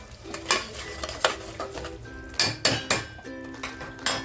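Rice frying in a pan: sharp spatula clinks and scrapes against the metal come in irregular bursts over a light sizzle, close by, with no talking.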